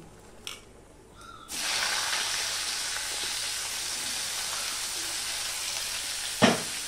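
Bitter gourd drops into hot oil with five-spice and sets off a sudden, loud, sustained sizzle that holds steady, with a light clink just before it and a sharp clank near the end.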